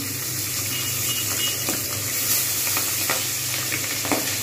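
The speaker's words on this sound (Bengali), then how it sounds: "শুরু হয়ে গেছে, মাছটা কিন্তু ভীষণভাবে ফাটে।" Pabda fish pieces frying in hot oil over lowered heat, a steady dense sizzle with scattered sharp pops and crackles throughout, close and alone with no talk.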